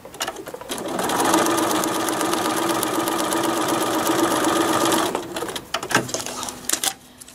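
A sewing machine stitches a paper-pieced quilt block in one fast, continuous whir of about four seconds, followed by a few softer handling clicks and rustles.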